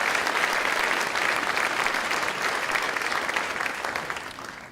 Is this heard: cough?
no